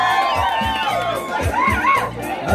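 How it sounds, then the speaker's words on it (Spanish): Crowd at a pupusa eating contest cheers and whoops, with excited shouts and voices rising and falling over a steady thumping beat. "¿Y quién le hace barra a Vitelio esta noche?"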